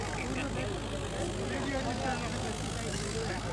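A John Deere 5210 tractor engine runs hard during a power test, a continuous loud droning rumble with steady low hum, no distinct breaks across the short stretch.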